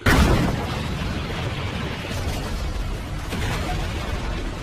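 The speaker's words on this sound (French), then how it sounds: "provoquant une explosion massive au centre de l'arène." A massive explosion detonates at the centre of an arena, a loud broadband boom at the start that settles into a sustained rumbling roar of debris and crackle for several seconds, with no speech.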